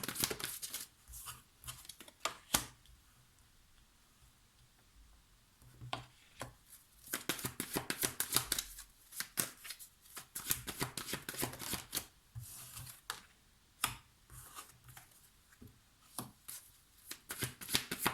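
Tarot cards being handled and shuffled up close make bursts of rapid papery riffling and snapping, separated by quieter pauses, with no voices heard.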